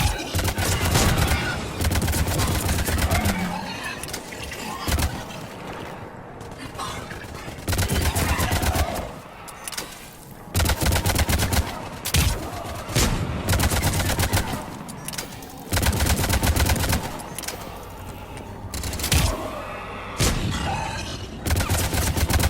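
Dense, sustained gunfire from a Mass Effect 3 battle, rapid bursts and volleys cracking almost nonstop with brief lulls, loud and close, with occasional heavier booms mixed in.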